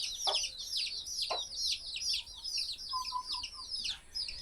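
Hens out of their coop in the morning give repeated high clucks and squawks, several birds calling close together in quick irregular bursts with quieter chirps between.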